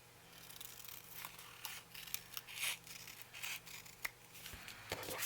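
Scissors snip the tips off paper pieces for a handmade journal, producing several faint, crisp cuts and rustles, close and quiet, with no speech.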